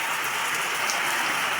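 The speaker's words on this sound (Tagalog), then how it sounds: "grabe na ang ulan." Dense, steady downpour from a typhoon in Bicol, Philippines, hissing without a break, heavy rain pouring close by with no voices.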